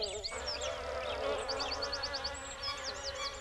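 Steady cartoon bee buzzing in a children's counting song fills the clip alongside bright chirpy synthetic tones and a musical backing, with no talking.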